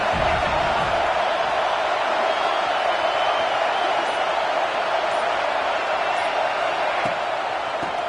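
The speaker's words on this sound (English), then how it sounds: "This crowd ready to make its presence known." A college football stadium crowd at USC vs Notre Dame sends up a loud, steady roar of cheering and noise that fills the whole stretch without a break.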